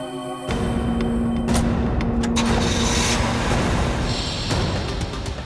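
A car engine runs steadily on a road, producing a continuous loud rumble with a constant hum throughout and no pauses.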